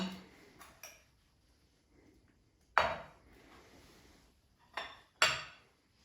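A knife cuts into a baked Greek alevropita pie, heard as sharp, close clinks and scrapes against the dish, a few faint taps early and then three louder strikes, with quiet gaps between.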